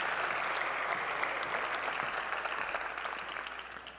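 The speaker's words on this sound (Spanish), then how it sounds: "Un aplauso, por favor." Steady applause from a graduation audience at a master's degree ceremony, a dense continuous patter of many hands clapping at moderate distance that fades slightly toward the end, with no voices over it.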